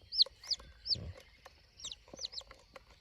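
Several short, sharp bird calls repeat in quick bursts over a quiet background, with a soft low thump partway through; a hen's clucking, close by.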